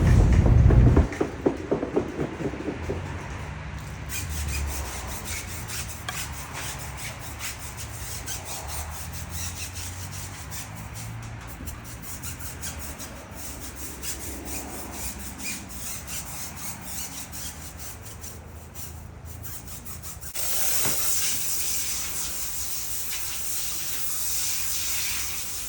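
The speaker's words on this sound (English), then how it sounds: "Right now I'm just doing the initial spray to knock down the initial gunk off the tires before spraying brake buster" A spray wand blasts car tires at a self-serve car wash in winter, knocking off grime before cleaner goes on: a close, harsh hissing spray that runs continuously, loudest at the start and again near the end.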